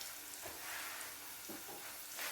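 Quiet stirring of mild curry powder, about two tablespoons, into a chickpea curry in a pan: three soft scraping strokes over a faint, steady simmering hiss.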